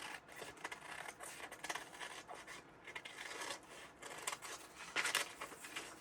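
Scissors snip through several layers of folded paper while cutting out a pattern for fabric Easter eggs, giving a steady, close rasping crunch with short sharp cuts and no talking.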